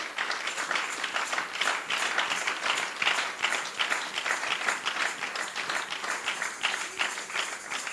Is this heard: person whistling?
no